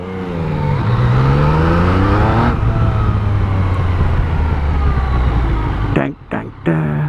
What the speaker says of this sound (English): This car's coming whipping over that hill.